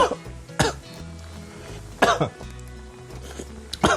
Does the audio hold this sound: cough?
yes